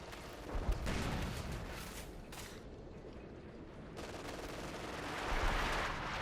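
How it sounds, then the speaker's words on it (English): Artillery and gunfire rumble through a match of Company of Heroes 2, with layered booming blasts and crackling shots. The bursts swell and fade over several seconds in a dense, continuous battle din. "Fresh artillery fire here"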